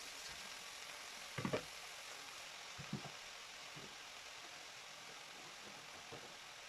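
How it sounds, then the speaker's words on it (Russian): Chopped wild garlic sizzles faintly in butter in a pan as a steady, soft frying hiss, broken by a few brief clinks and stirring noises. "в чистую сковородку отправляем небольшое количество сливочного масла. Далее выкладываем нашу готовую порезанную черемшу."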